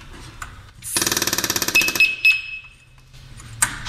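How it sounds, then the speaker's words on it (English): Scott SCBA PASS device vibrate alert starting up: a burst of rapid, evenly pulsed buzzing with a bright clinking edge, followed by a few short high electronic beeps, fairly close and with no talking. "that's the startup process for the vibrate alert"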